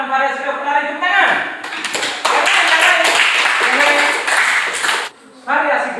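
Students clapping hands together in a primary school physical education class, a burst of quick, close claps from a group, with a voice speaking before and after.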